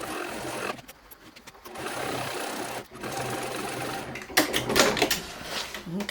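A sewing machine stitches purse fabric along the seam allowance, running in bursts of rapid mechanical whirring that rise and fall in speed, with a person speaking between runs.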